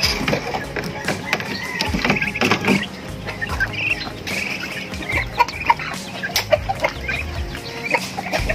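Busy poultry yard of ducks, pigeons and turkeys with scattered clucks and squawky bird calls over a constant murmur of background voices, sharp short cries popping up throughout.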